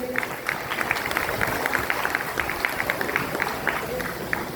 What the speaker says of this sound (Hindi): ताली बजाते रहिए